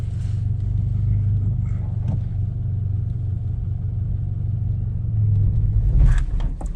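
A manual Scion FR-S pulls away in first gear, its engine a steady low rumble that swells briefly near the end as it gains revs, heard from inside the cabin with no talking.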